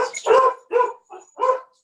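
Several dogs bark in a quick burst of four sharp, fairly loud barks close by, with brief gaps between them and no talking.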